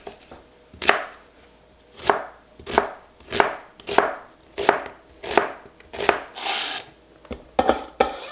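Half a red onion being chopped on a board, about a dozen firm, evenly spaced knife strokes, each with a short scraping tail, close and clear with no voices.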